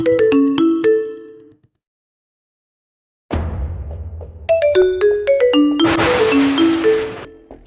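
A mobile phone ringtone from an incoming call plays a bright, repeating melodic chime, pauses in silence for a couple of seconds, then rings again over a low rumble, loud and close, with no talk.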